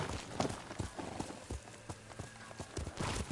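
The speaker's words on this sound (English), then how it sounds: "Horse!" Horse hooves clip-clop in the video game Ghost of Tsushima, a quick, regular stream of hoof strikes at moderate distance, fairly soft, over a low background rumble.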